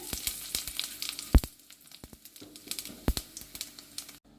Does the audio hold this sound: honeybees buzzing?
no